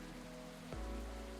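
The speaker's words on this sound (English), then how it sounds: "It is raining dogs and cats outside, and it just started doing the exact same thing outside the igloo." Steady rain patters in the cozy café setting of the video game Coffee Talk, a soft, continuous hiss with a slight shift in tone partway through, heard alone without talk.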